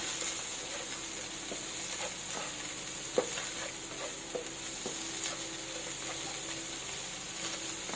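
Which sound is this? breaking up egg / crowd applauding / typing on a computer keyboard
breaking up egg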